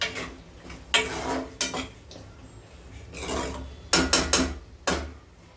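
Vegetables being stirred into spices in a pan over a low flame for a veg soya pulao, heard as several scraping, rasping strokes of a spoon against the pan in irregular bursts, close and fairly loud with no talking.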